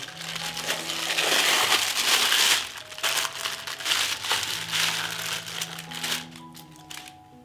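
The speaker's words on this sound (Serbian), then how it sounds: "I izvadit ćemo slaninu iz kese." Plastic bag crinkling and rustling as bacon is pulled out of it, a dense, close crackle that is loudest in the first few seconds, then eases into lighter intermittent rustles.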